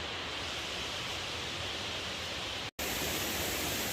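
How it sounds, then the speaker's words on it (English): Roaring waterfall in the Virginia backcountry, a steady broadband rush of falling water that stays loud and close throughout, with a brief cut of silence near the end before the roar resumes. "We got to get down there to the waterfall."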